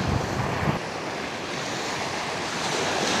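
Sea waves break and wash onto a black sand beach at San Juan, Ternate, Cavite, a continuous loud surf roar with wind buffeting the microphone.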